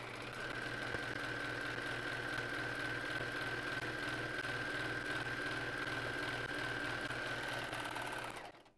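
A serger stitches fabric in one steady, continuous run, its fast mechanical hum and rapid needle rattle holding at an even level nearby before cutting off abruptly at the end.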